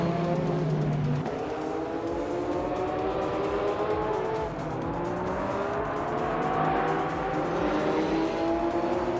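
A 1987 Porsche 959 race car engine roars steadily in a racing video game, holding a loud, sustained high-speed drone with rising and falling pitch sweeps as it accelerates and shifts, with no talking.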